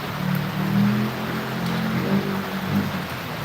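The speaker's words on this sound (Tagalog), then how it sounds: "Ayan, lakas ng ulan." Steady heavy rain pours down on a rainy afternoon, a dense continuous wash of droplets with a low rumbling undertone, loud and close throughout with no talk.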